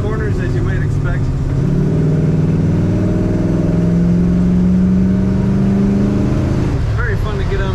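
A 1964 Chevrolet El Camino's engine and exhaust give a deep, steady rumble that swells as it revs through the middle of the drive, loud and close from inside the moving car, with a voice talking briefly at the start and end.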